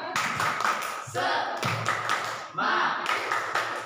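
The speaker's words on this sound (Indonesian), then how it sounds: "Tepuk semangat dulu ya. Tepuk semangat." A group of school staff or students performs the rhythmic 'tepuk semangat' spirit clap during a positive-culture school session, with bursts of patterned claps in three rounds, fairly close and loud, mixed with voices.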